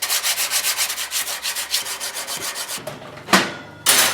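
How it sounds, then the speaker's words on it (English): Rhythmic back-and-forth sanding strokes on a hardened steel knife blade rasp steadily, then slow to a few separate, louder scrapes near the end. "do some more sanding as it's a little bit softer"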